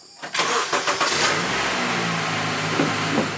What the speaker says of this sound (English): Now remove all your tools from the engine bay and fire it up.